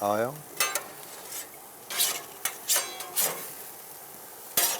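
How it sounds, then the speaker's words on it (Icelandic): Hamburgers on an outdoor grill, with faint sizzling under a series of sharp metallic scrapes and clanks from a spatula, close by and without talking. "Hann mælir enda með því við alla þá sem grilla hamborgara á útigrilli."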